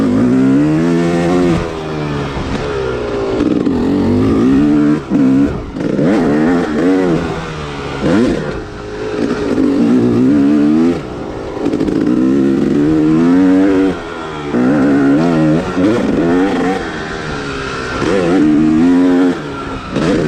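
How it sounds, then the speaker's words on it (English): A dirt bike ridden around backyard trails, its engine droning loud and close for about twenty seconds with repeated revving rises and falls as the rider works the throttle, no voices. "I think I'm gonna try to ride some moto now"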